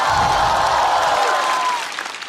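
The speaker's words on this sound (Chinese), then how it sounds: "这但凡在外边观众有这种欢呼和掌声" Audience at a Chinese stand-up comedy show breaks into loud, sustained applause mixed with cheers and whoops, close and filling the hall before tapering off near the end.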